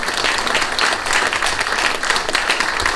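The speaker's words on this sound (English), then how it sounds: "A round of applause for Laurie." A crowd at a live interview event claps loudly and steadily, dense applause filling the room without pause from start to finish.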